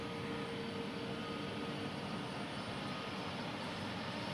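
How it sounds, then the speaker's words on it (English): Boeing 747 cargo plane going for takeoff in the evening, heard as a steady, broad, moderately loud jet engine roar that holds evenly without pause. "you can see 747 going for takeoff"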